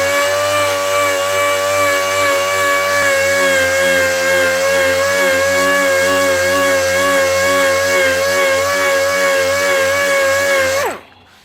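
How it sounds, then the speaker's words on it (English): Air board sander running steadily on car body filler, a loud, continuous pneumatic whine with a strong steady hum that holds for about eleven seconds, then cuts off and spins down at the end. "I'm actually probably just going to use my airboard sander and hammer that out real quick"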